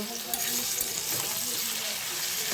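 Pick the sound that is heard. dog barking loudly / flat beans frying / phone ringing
flat beans frying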